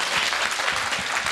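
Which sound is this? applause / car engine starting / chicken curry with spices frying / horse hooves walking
applause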